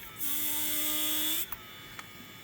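A brushless spindle upgrade on a 3018 PRO CNC machine spins up into a steady, high electric whine for just over a second, then cuts off and leaves a couple of faint clicks.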